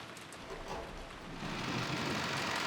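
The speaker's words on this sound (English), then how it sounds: "the downpour was quite terrific." Heavy rain pours down as a dense, steady hiss that swells louder halfway through, a downpour scene from the visual novel Umineko When They Cry, with no voices.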